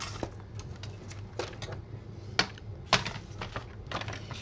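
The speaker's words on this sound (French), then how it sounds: "je vais peut-être découper au massicot pour être bien droite" Sharp slicing clacks and snaps of a paper guillotine trimmer cutting a photo, several distinct crisp strikes spaced irregularly over a low steady hum, close and fairly quiet.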